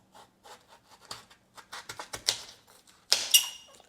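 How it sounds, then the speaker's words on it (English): A knife cuts through a watermelon in a series of short, crisp slicing and crunching strokes, close and fairly quiet. The strokes come in an uneven rhythm with a brighter burst near the end, and no one speaks. "So from here, I'm gonna cut like this."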